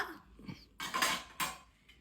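Tea cups and a stainless steel strainer clink and clatter as they are handled, a few close, bright knocks and rattles in quick succession.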